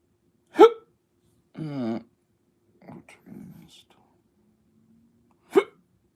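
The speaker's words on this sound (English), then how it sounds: "I got the hiccups." Two sharp, abrupt hiccups land about five seconds apart, close and clear, with a few soft vocal sounds and breaths between them in an otherwise quiet room.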